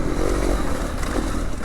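Twin-cylinder dirt bike engine revving loud and close, a rough continuous roar with clattering mechanical texture throughout the short burst.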